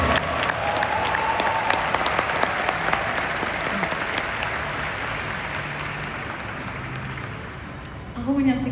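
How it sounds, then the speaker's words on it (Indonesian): Concert audience at a 14th anniversary show breaking into sustained applause, a dense, loud wash of clapping that holds steady for several seconds before fading, with a voice cutting in at the end. "Boleh dong tepuk tangan untuk kita semua"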